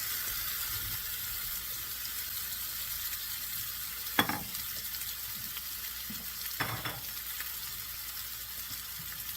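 Mushrooms and onions fry in melted butter in a cast iron skillet, giving a soft continuous sizzle with two sharper scraping or stirring bursts midway; the frying stays fairly quiet and close, with no talking.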